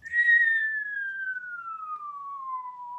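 A single clear whistle glides slowly downward in pitch for about three seconds, imitating the descending shriek of a falling bomb.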